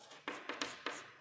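Chalk or marker writing on a classroom board gives short, sharp scratchy strokes, about five quick bursts in a little over a second, close and fairly quiet, with no talk.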